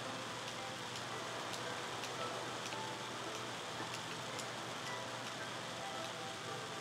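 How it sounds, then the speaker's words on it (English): Rain falling in the video game Minecraft, a steady soft hiss with faint scattered drop ticks, quiet and continuous throughout. "it's definitely raining outside"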